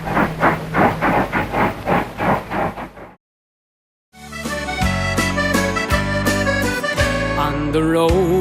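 A steam train chugs in rhythmic puffs on the line to Killybegs, Ireland, then falls silent before loud musical tones take over.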